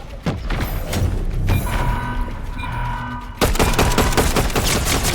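Rapid bursts of video game gunfire rattle loud and close, with dense automatic volleys, a short lull of softer firing midway, then another heavy barrage.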